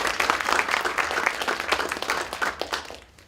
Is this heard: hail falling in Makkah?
no